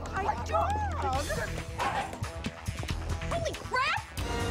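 A small dog yips and whimpers with high, sliding cries throughout a film scene, close and loud, mixed in with people talking.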